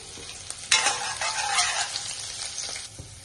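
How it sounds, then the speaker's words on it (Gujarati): Chillies, ginger and garlic hit hot oil in a wok for veg manchurian, a sharp sizzle erupting suddenly and holding as a loud, crackling hiss before settling, with no voices. "તેલ ગરમ થઈ જાય તે પછી આપણે મરચાં, આદુ અને લસણ એડ કરી દઈશું"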